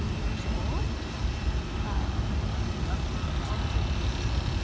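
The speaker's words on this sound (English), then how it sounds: "Walking out to the plane." An airplane sits on the apron at a small airport, its engines giving a steady low rumble and hum that holds at an even level throughout.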